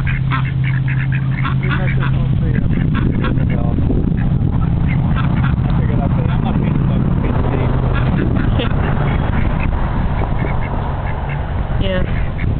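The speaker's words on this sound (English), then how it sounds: "I didn't realize there were ducks down here" Ducks quack repeatedly against a steady outdoor rumble at a feeding spot with ducks and geese near Lakewood and Orangeburg, with people talking nearby throughout.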